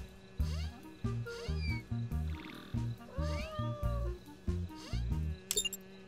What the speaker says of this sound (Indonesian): seekor kucing liar